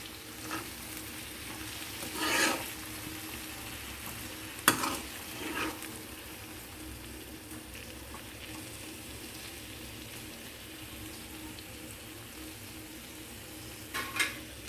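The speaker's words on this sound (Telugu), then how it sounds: "ఇప్పుడు నేను దీంట్లో శనగపప్పు వేస్తానండి." Chana dal frying in a pan while being stirred: a soft, steady sizzle throughout, with a few brief louder scrapes and clinks from the stirring, no talking.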